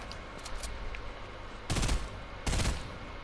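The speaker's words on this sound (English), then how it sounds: "Who the fuck is shooting me?" Bursts of automatic gunfire aimed at the player in a battle-royale-style shooter game, two loud rattling volleys roughly a second apart after faint distant shots, with no talk over them.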